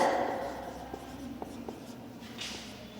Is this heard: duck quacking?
no